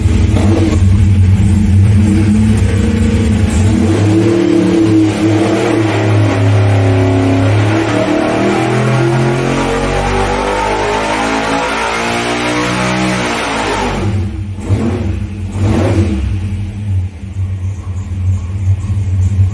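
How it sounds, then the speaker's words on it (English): An 800hp LS V8 NASCAR engine with a Holley Dominator management system runs on a dyno, a loud continuous rumbling roar that climbs steadily in revs, then cuts back near the end. "Let's watch the dyno."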